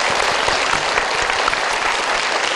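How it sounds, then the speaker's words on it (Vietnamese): A studio audience at a Vietnamese TV game show claps in a dense, steady round of applause, loud and close, with no talking over it. "Chúng ta cùng dành một tràng vỗ tay để nêu cao tinh thần của anh Triều."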